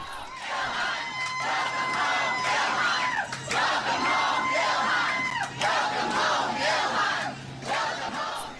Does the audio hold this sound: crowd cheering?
yes